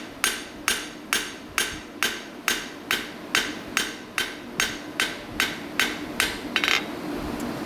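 Blacksmith hammering metal on an anvil to spread it, a dozen evenly spaced ringing blows in a steady rhythm, close and clear with no talking.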